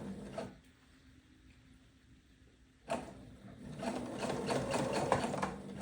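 A sewing machine stitches quilt fabric in short bursts, a quiet close whirring run, then a pause, then a longer, busier run of rapid needle chatter.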